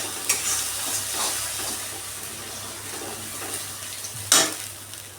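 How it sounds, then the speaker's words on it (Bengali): Water added to a pan of spiced oil with turmeric for kasundi fish curry, a soft close sizzle and stirring with a sharp hiss burst near the end. "এবার আমি একটু জল দিয়ে মাছটা দিয়ে দেবো"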